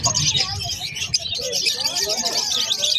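Caged birds at a busy pet market, including doves and finches, chirp constantly in a dense, overlapping chatter, with people talking in the background.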